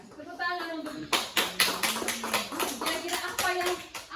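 Schoolchildren in a classroom clap in a burst of rhythmic, fairly close claps, with children's voices talking and calling out under and between the claps.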